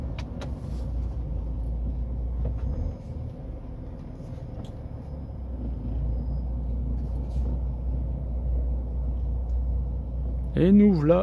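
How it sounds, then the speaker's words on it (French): A Renault Austral slows in Bordeaux rush-hour traffic, heard from inside the cabin as a steady low engine and road rumble that eases off as it brakes, with a brief rising squeal near the end. "Je vais être obligé d'utiliser les freins."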